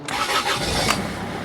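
A Rover 25 car engine starts, a quick crank that catches at once and settles into a loud, close, even idle with no talk over it.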